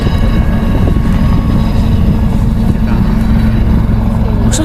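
A helicopter at the Southport air show makes a steady, loud low rumble with constant rotor and engine drone and wind buffeting the microphone throughout.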